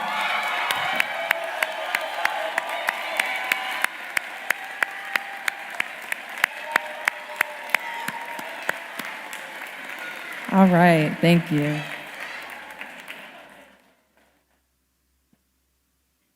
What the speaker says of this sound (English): just stand so we can give you a round of applause if you are in here